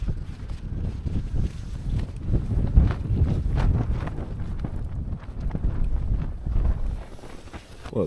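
Wind buffets a tent pitched on Kinder Scout on a summer evening, a gusty broadband rush that swells and eases close to the microphone, with no talking.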